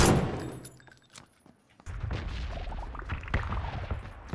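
Gunfire in the battle royale game PUBG, several sharp cracks with a burst of rapid shots in the second half, following a quieter stretch with faint clatter.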